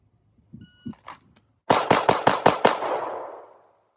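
Polymer Glock pistol fitted with an aftermarket TriggerTech or Timney trigger, fired in a rapid string of six sharp, loud, evenly spaced shots with a ringing tail, preceded by faint handling clicks and a beep.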